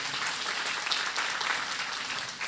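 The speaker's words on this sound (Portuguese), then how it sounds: "Você pode aplaudir o Senhor pela vida dele mais uma vez." Congregation applause in a church, a continuous roar of many hands clapping at once, dense and steady for the whole stretch with no talk over it.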